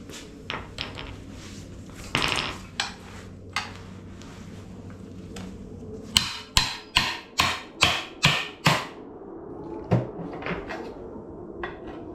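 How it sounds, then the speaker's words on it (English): A Ram 1500 fourth-generation 4WD transfer case being tapped and pried apart during a teardown, a sequence of sharp metallic knocks, scattered at first, then a rapid run of about six evenly spaced hits, close and loud. "I'm just going to try to give it a tap. Give it a tap and a pry."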